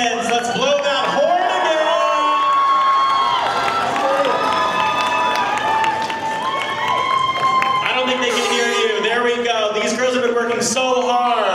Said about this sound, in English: now let's hear a big round of applause for all 8 of our contestants